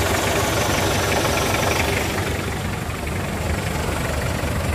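A 2004 Mitsubishi Kuda Grandia diesel engine idles steadily, a dense, continuous low rumble with a faint knocking texture, close and fairly loud throughout, with no one talking over it.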